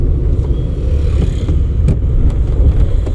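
Steady low rumble of a car engine inside the cabin during a driving lesson, holding an even drone throughout with a few faint clicks over it and no talk.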